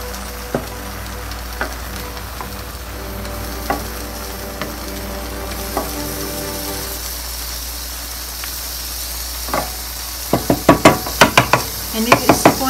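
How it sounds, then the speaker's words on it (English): A spoon stirs rice pilau frying in a pot. The food sizzles steadily, spoons scrape and knock at scattered intervals, and a fast burst of clinks comes near the end. A low hum runs underneath. "And I'm going to give everything a good mix."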